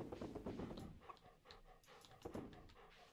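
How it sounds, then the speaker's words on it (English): A dog pants heavily and rapidly close by, giving a steady run of breathy, rhythmic huffs with no talking over it. "Oh, my dog is so breathy today."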